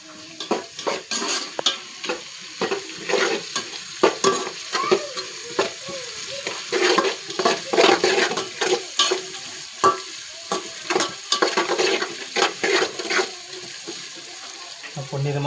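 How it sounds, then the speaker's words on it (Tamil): Onions sautéing and being stirred in a pan until golden for chicken curry, with repeated spoon scrapes and clatters in uneven bursts over a continuous sizzle, close and fairly loud. "இது பொன்னிறமாக வர வரையும் நல்லா வதக்கிக்கலாம்."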